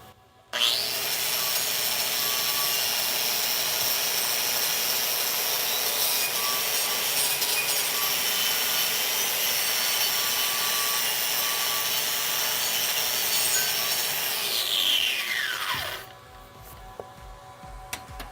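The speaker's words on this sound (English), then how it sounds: "I'm going to chip the slag off here, give it a once over with the wire wheel" Wire wheel brushing a freshly chipped flux-core weld bead on a 3G vertical joint with ceramic backing, a steady loud abrasive whir lasting about fifteen seconds before spinning down and stopping.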